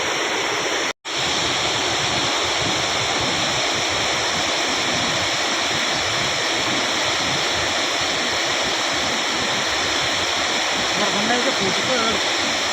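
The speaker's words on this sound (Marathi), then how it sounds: "हे बघा हेच ते सोडलेलं पाणी" Water released through the overflow gate of Bhandardara dam roars in a loud, continuous rush, steady throughout apart from a momentary dropout near the start.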